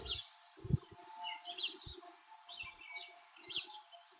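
Birds chirp outdoors in a few faint, scattered bursts of high tweets, with soft low rustles and thumps nearby between the calls.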